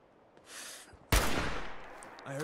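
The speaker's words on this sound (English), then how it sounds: "Take a few pot shots at him." Gunfire in Fallout 4 cracks out as one sharp, loud shot with a rushing tail, followed by a burst of harsher noise and a short voiced sound at the end.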